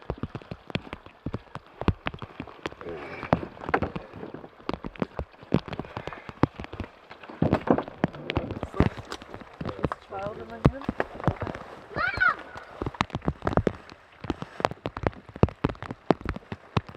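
Rain patters on surfaces at a wilderness campsite in the Yukon, a dense scatter of close drops and taps, with a few voices talking quietly at times.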